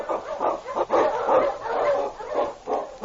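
Husky sled dogs bark and yip in an old-time radio drama about the Yukon, a rapid overlapping chorus of barks with a whimper, mid-distance and sounding band-limited like an old broadcast.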